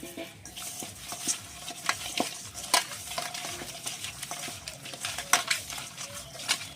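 Pieces of fresh rohu fish are mixed by hand with salt and turmeric powder, making irregular wet squishing and light tapping sounds up close, with a faint clink of a utensil now and then.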